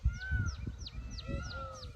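Peacocks call in the background around a farm, giving a run of about six quick, repeated shrill cries. They sound faint and distant over low rumbling noise.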